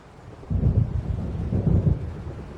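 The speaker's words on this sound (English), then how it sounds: "It seems there's a storm coming." Deep, rumbling thunder of an approaching storm in the game Alan Wake Remastered, rolling in two low swells over a constant background hush, with no voices.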